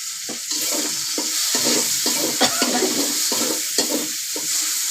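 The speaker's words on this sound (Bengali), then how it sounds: "চিংড়ি মাছটা প্রায় ভাজা ভাজা হয়ে যাচ্ছে।" Shrimp fry with whole cumin and salt in a pan, a close steady sizzle broken by a regular rhythm of scraping stirs about every half second, with a few sharper clacks of the utensil against the pan.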